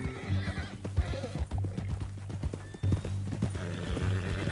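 A horse in the video game Red Dead clip-clops at a steady walking pace and lets out a neigh, with the hoofbeats close and continuous under a low background hum.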